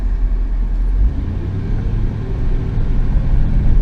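A 1973 Jensen Interceptor III saloon with an automatic transmission drives along, its cabin filled with a loud, continuous low engine and road rumble whose pitch shifts slightly as the gears change.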